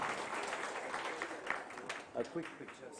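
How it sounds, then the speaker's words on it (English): Audience applause at a maritime regional summit panel session, a steady dense patter of clapping across the hall with some voices mixed in. "Can you have a loud round of applause, ladies and gentlemen?"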